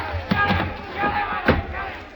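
An angry mob chasing Zola in a 1939 radio drama: scattered shouting voices with sharp thumps and slams, the crowd noise rising and falling over a couple of seconds.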